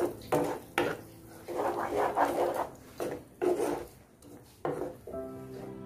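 A spoon stirs ground paste into a makhana masala in a pan, making repeated scraping and rubbing strokes at close range in an irregular rhythm, with a soft clink near the end.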